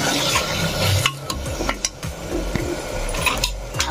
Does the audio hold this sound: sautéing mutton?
yes